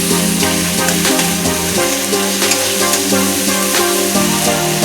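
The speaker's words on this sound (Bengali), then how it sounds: "এখন হলুদ গুঁড়োটা দিয়ে দেবো, লবণ, টমেটো দিয়ে আমি কষতে থাকবো সুন্দর করে মশলাটা" A masala of ginger paste, turmeric, salt and tomato sizzles loudly in hot oil in a pan, a steady close frying hiss with occasional stirring scrapes and no talk.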